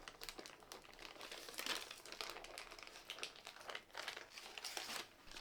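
Greaseproof paper is peeled away from a pavlova roulade, producing close, soft crinkling and rustling with small crackles and tearing sounds that rise and fall irregularly.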